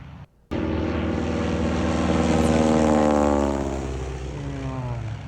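A loud, close propeller airplane engine drones steadily and continuously after a brief silent moment at the very start.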